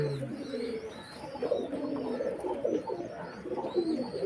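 Several pigeons coo steadily close by from Trichy racing-pigeon bloodlines, a soft layered murmur of low rolling calls that fills the background without any talking.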